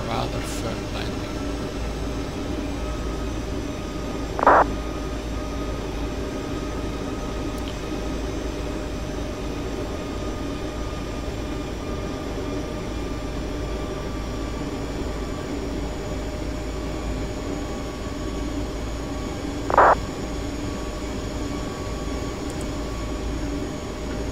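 A steady jet airliner cabin drone hums continuously in a Prepar3D v4 flight simulator flight from Amsterdam to Zurich, with two brief faint beeps or chimes spaced well apart over the constant engine noise.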